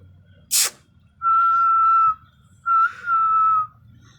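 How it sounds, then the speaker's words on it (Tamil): A person whistles to call an animal with two sustained, clear, steady whistles, each close and loud, after a brief sharp noise at the start. "நான் விசில் அடித்தா வரணும்னு சொல்லி தான் பழக்கி வச்சுருக்கேன்"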